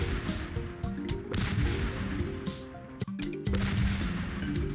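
Rapid popping shots from plants in the video game Plants vs Zombies, repeated through a dense, busy mix of game effects and music, with a brief dip near the end.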